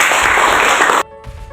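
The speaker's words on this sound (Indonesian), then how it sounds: "Tepuk tangan dulu untuk temannya" A classroom of students claps for a classmate in a dense burst of applause lasting about a second, then stops abruptly, leaving a faint room tone.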